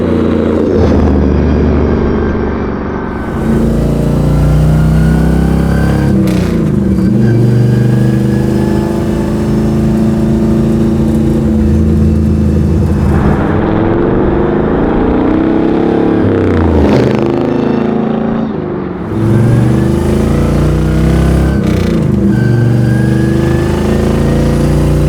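A 1951 Ford Coupe custom build by Wicked Fabrication revs loudly while driving, its engine note rising and falling through several throttle blips and shifts, close and continuous with no talking.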